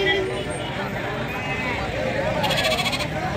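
Sheep bleat amid the bustle of a weekly livestock market at an old bus stand, the calls rising over a constant crowd murmur with people talking throughout.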